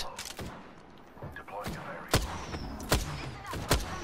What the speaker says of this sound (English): Dang it, we're getting bombed again.